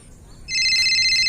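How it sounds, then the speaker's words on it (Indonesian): A telephone starts ringing partway through with a loud, steady electronic bell tone that continues to the end, following a quiet moment. "ada telepon lagi"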